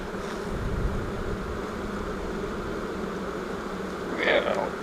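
Honey bees buzzing around an open hive while honey is pulled, a steady hum running throughout with a brief louder buzz near the end and a person speaking over it.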